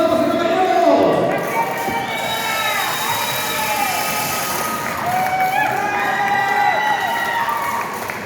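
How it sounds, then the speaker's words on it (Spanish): Crowd at a lucha libre wrestling show in Mexico cheering, whistling and applauding in a steady, loud roar throughout, with shrill whistles rising above the noise. "¡Que suene el aplauso, damas y caballeros!"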